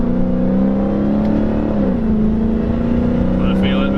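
A 2016 Dodge Challenger Hellcat of about 700 horsepower pulls hard from inside the cabin, its loud steady engine drone dipping briefly at an upshift before climbing again, with voices speaking over it.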